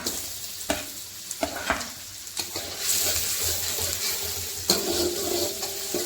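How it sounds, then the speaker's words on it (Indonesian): Shallots and garlic stir-frying in oil in a pan, a loud continuous sizzle broken by repeated scraping and stirring strokes of a utensil, with no talk. "Oseng-oseng hingga bawang merah dan bawang putihnya matang dan berbau harum"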